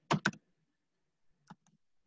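A computer keyboard gets a quick pair of keystrokes, then a couple of fainter taps after a pause, in a quiet room.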